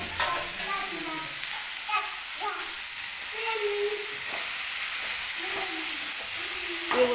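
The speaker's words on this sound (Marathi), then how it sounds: "आता याच्यामध्ये आपण भाजी टाकून घेऊया। भाजी छान परतून घ्यायची आपल्याला।" Fresh spinach sizzles as it is sautéed in a hot pan for a dry spinach bhaji, a steady near frying hiss with soft stirring scrapes over a continuous hum, with no talking.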